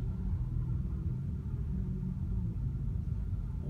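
Car engines rumble in a heavy traffic jam on a road near San Diego, California, a steady low droning hum heard from inside a vehicle, continuous and fairly loud with no talking.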